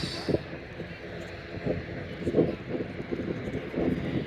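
An ATR turboprop taxiing out at Manchester Airport, heard from a runway-side viewing park as a faint, distant engine drone blended with gusty wind noise on the microphone.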